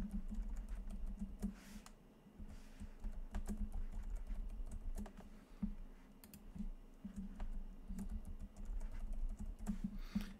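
A password is typed on a computer keyboard during a VMware Workstation 17 nested home-lab setup, a steady run of close, crisp key clicks with short pauses between bursts over a low background hum.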